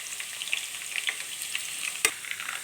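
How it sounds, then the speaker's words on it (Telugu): Mustard seeds frying in hot oil for lemon rice, giving a steady close sizzle dotted with sharp popping crackles and one louder pop near the end. "ఇంకా 1 టేబుల్ స్పూన్ ఆవాలు, ఇది కొంచెం బాగా ఎర్రగా కలర్ వచ్చేలాగా వేయించుకోవాలి"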